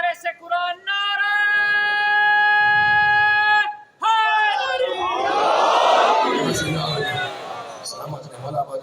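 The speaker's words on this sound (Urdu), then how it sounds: "نعرہ سب لگائے جو سے دل چاہے لگائے، لیکن جب نعرہ لگے تو طاقت سے آواز آنی چاہیے" A large crowd at a religious majlis gathering in Multan roars a chanted slogan in unison, a loud swelling mass of voices that follows a man's long sustained call; the crowd surges strongly and then tapers off.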